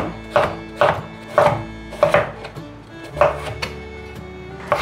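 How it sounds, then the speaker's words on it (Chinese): A knife slices peeled jicama on a cutting board in seven evenly spaced, sharp chops, each a crisp knock on the board, close and clear with no talking. "准备1小块的豆薯，把豆薯的皮削掉。 把豆薯切片"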